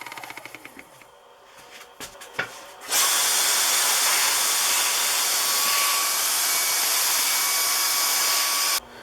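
Power drill boring into a small knurled metal regulator handle for a Corsair cockpit model, a few short starts and taps, then a steady, loud, high whine running for about six seconds before cutting off.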